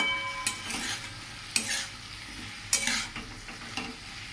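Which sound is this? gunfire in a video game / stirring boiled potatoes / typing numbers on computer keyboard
stirring boiled potatoes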